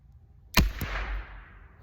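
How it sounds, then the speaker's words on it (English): A .22 LR rifle fires with its muzzle pressed against a pillow, giving one muffled but sharp crack, a quick second report, then a short fading whoosh in a quiet setting. "here is the test with the 22 LR through the pillow"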